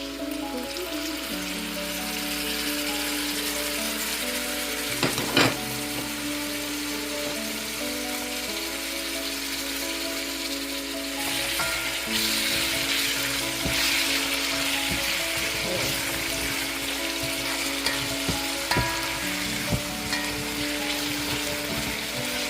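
Saltfish frying in a pan for a Jamaican meal, giving a steady, close sizzle with faint crackles throughout and no talking.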